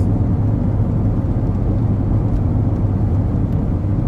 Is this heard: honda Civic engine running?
yes